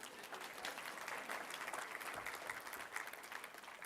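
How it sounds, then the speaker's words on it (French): Audience applause breaks out at a live French-language talk show taping, a dense, steady wash of many hands clapping for nearly four seconds at an even level with no voices on top. "Est-ce qu'on peut l'applaudir?"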